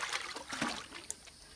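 Water sloshing and trickling around someone digging waist deep in a river for fossils, soft splashes and dribbles up close with a sharper splash near the end.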